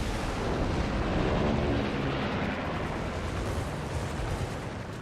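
Big naval guns fire in World of Warships as a loud, sustained roaring boom that fills the whole stretch with broad rumble and only a slight fade near the end.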